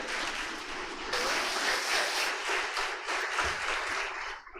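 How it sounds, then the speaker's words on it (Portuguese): A church congregation bursts into applause during a Portuguese-language sermon, a dense, steady wash of clapping that swells after the first second and holds for several seconds before tapering off. "dê um aplauso a Jesus para ver que você é crente"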